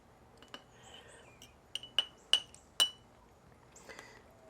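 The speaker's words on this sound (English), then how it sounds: "I'm sorry if that's loud, that fork hitting that glass." A metal fork strikes a glass while coleslaw is layered onto pulled pork for a BBQ sundae. Several sharp, bright clinks come in an irregular cluster, with a few softer taps around them.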